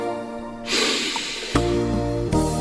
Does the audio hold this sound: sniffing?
yes